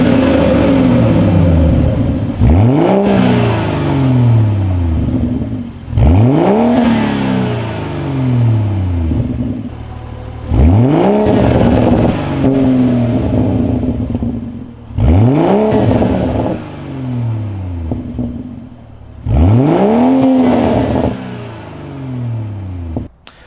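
A BMW 440i B58 with its resonator deleted and a muffler delete gives five loud, close revs, each climbing quickly and falling back toward a rumbling idle between blips.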